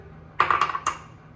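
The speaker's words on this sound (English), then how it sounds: "Now I'm going to plate the chicken." Chicken steak and vegetables set onto a plate, a few quick clinks of food and utensil against crockery in close succession, then quiet.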